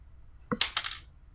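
A six-sided die is rolled on a table during a tabletop role-playing game: a quick burst of hard clattering taps as it tumbles and settles within about half a second, close and alone.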